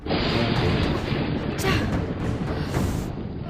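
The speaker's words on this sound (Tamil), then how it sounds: "இடி காத்த பொளக்குது." A long, loud rolling rumble of thunder filling the whole stretch, broad and continuous with a few swelling bursts.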